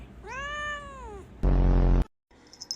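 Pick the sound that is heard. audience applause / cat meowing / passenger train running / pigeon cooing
cat meowing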